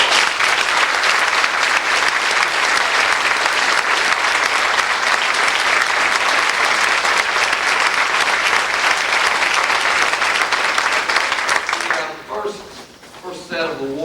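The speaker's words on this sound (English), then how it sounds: "Let's give them a big round of applause." A crowd at a winter sports awards event applauds a winning team, with dense sustained clapping for about twelve seconds before it fades and a voice begins speaking.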